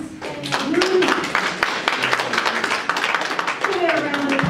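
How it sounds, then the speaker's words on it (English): An audience at a literary panel event claps for the panelists, dense steady applause filling the room with some voices audible underneath. "Can we have a round of applause for our panelists?"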